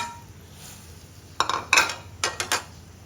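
Seared beef scraped from a pan into a pot of boiling Thai curry broth: after a quiet simmering hiss, four close, sharp bursts of metal utensil scraping and clanking against cookware, in two quick pairs, with no talk.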